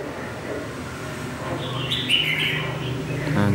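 A caged red-whiskered bulbul gives bright chirps and short whistled calls, rising midway and near the end, over a constant low background hum.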